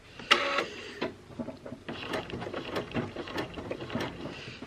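Home sewing machine stitching a clutch wallet, a rapid mechanical run of needle strokes in short bursts with brief pauses, close and fairly quiet, with small clicks from handling.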